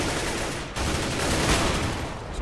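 Dense gunfire in the video game CS:GO, a loud unbroken roar of rapid shots with a sharp jump in intensity partway through and no pauses.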